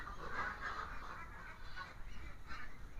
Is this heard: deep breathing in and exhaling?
no